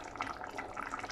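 Hot water pouring into a cooking pot of potatoes on an outdoor cooking setup, a soft, steady splashing trickle at low level, brief and without voices.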